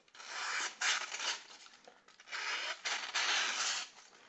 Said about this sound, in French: ça tranche bien, c'est bien affûté